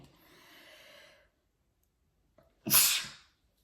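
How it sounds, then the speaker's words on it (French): A drawn-in breath, a short pause, then one sharp, loud sneeze bursts out close by and fades quickly. "Excusez-moi, je crois que je vais éternuer."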